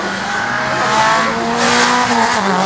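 Peugeot 205 Rallye at a slalom event near Ancenis, its engine note rising and falling loudly as it passes, with tyre noise from the circuit.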